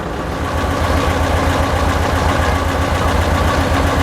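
A tractor engine running loud and steady at raised revs, driving a sprayer, a continuous close-up mechanical drone with no breaks.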